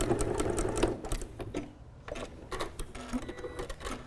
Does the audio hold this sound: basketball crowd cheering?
no